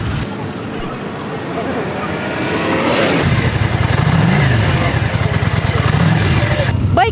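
A small motorbike engine runs at a motor rally, a steady mid-pitched rumble that swells louder partway through and holds there, with a voice talking over it.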